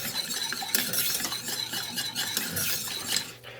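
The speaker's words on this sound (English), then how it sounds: "Just give it a good whisk." A whisk beats white sauce in a pot for scalloped potatoes, a steady quick clinking and scraping against the pan with faint sizzle, close and continuous with no talking.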